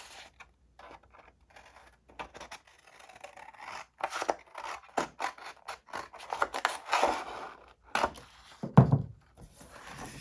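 Scissors cut a strip of paper for junk journal pages, making a series of short, close snips and rustles that come in uneven bursts, growing busier toward the end.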